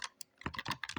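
Keys clatter on a computer keyboard while HTML code is typed, a quick irregular run of sharp, close clicks after a brief pause, fairly quiet overall.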